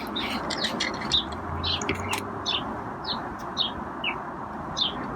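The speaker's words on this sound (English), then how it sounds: "There's a bird chirping right now." A bird chirps outdoors in a run of short, high, repeated notes, roughly one every half second, over a low steady background rumble.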